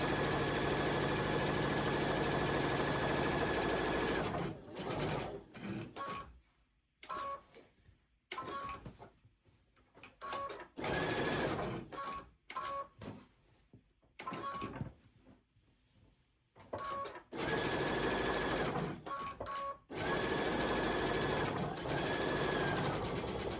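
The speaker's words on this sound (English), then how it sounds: "Just sew it right on here." A sewing machine stitches store-bought cotton fabric onto a plain holiday stocking, running in quick rattling bursts that stop and restart several times with short pauses between runs.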